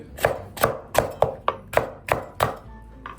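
Green chilies being cut into thick pieces with a knife on a board, about eight crisp, evenly spaced chops in a steady rhythm, close and clear, with no talking.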